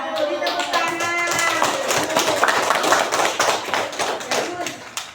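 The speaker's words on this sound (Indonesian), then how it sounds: "Beri tepuk tangan." Children clapping together in a school classroom, sharp, rhythmic claps close by in quick succession over several seconds, with voices talking and calling out beneath.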